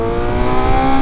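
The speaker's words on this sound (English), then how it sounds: "The new exhaust is amazing. It sounds so good." Motorcycle fitted with a new full titanium aftermarket exhaust (Akrapovic header system with GP Shorty tip), a loud steady engine drone with strong harmonic tones that rise slightly in pitch near the end, heard up close and alone.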